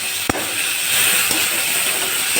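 Chopped tomatoes drop into a hot pan for an egg dish, giving a short soft impact followed by a steady, fairly loud sizzling hiss that holds to the end.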